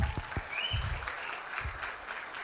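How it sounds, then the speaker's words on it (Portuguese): Audience clapping at an entrepreneurship expo talk, a dense, moderately distant round of applause sustained across the moment with a few sharper claps near the start. "Salve de palmas para a técnica maravilhosa."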